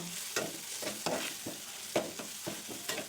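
Masala of red chilli powder, garam masala and turmeric fries in a pan for Maharashtrian matki usal, with steady sizzling broken by repeated stirring scrapes, close and moderately loud, no talking.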